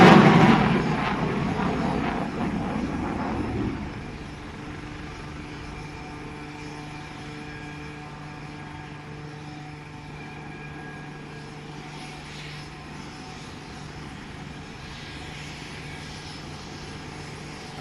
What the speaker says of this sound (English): Tejas is now demonstrating the maximum straight turn capability of the aircraft.